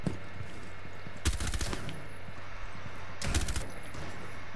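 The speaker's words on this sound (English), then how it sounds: "that right there is shotgun" Two heavy shotgun blasts in the Rainbow Six Siege video game, about two seconds apart, each a sharp crack with a brief rattling tail over a steady low game background.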